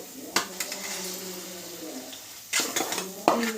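Fried masala being scraped from a pan into a bowl, with several sharp metal clinks and scrapes of utensil on cookware standing out over a quiet kitchen background.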